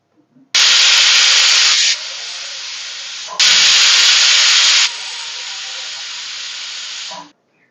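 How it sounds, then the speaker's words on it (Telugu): A pressure cooker whistle on a stove, cooking a yam and tomato tamarind stew, releases steam in two long, loud, close hissing bursts of roughly three and four seconds each, with a brief dip between them. "ఇప్పుడు కుక్కర్ మూత పెట్టి విజిల్ పెట్టి 2 విజిల్స్ రావాలి"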